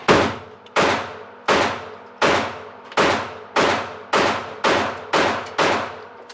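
A pistol fires about nine single shots in an even, deliberate rhythm during a shooting skill drill, each sharp crack followed by a short ringing decay, loud and close with no talk between shots.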